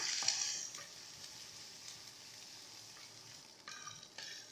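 An egg goes into a frying pan of vegetables for a noodle roll, giving a quiet sizzle with a brief sharp crackle at the start and soft stirring scrapes that return near the end.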